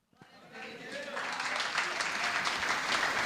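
Church congregation applauding during a Portuguese-language sermon, the clapping building after a short pause into a broad, steady wash of hands that holds at moderate loudness to the end.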